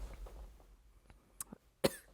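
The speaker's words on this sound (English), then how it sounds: "oh god, now she wants to have coughing fits" A woman's coughing fit: a few scattered light coughs, then one sharp, loud cough near the end, heard close with no talking.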